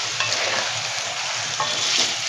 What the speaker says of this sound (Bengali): এবার এটাকে খুব আস্তে আস্তে নেড়ে দিতে হবে।